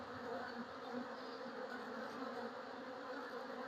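A dense, continuous buzz of honey bees swarms around an opened hive during a brood-frame inspection, steady and close with no pauses, fairly quiet overall.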